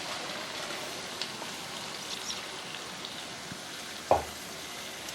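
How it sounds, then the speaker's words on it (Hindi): Daleem mixture with boiled, lightly ground wheat cooks in a pot while being stirred, giving a steady soft sizzle and bubble throughout, with one sharp clink of the spoon against the pot near the end. "अब हम इन्हें मिक्स करेंगे। 5 मिनट के लिए कुक करेंगे अच्छी तरह से।"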